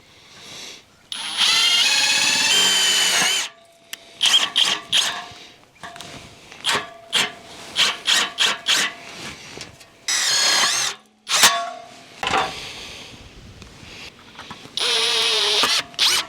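A power drill drives a self-tapping screw while a solar sun tracker is fitted. It whirs in loud bursts of varying length, with short stop-start pulses and a final longer run.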